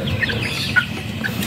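Free-range village chickens cluck softly nearby, a few short calls over a low background murmur of the coop.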